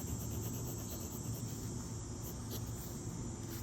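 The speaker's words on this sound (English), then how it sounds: "The cicadas are cicada-ing" A steady cicada drone outdoors, dense and continuous, with a high buzzing band running through the whole stretch and no voices.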